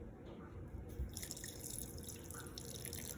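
Warm water trickles and splashes steadily into sourdough dough in a bowl, a soft continuous pour at low level.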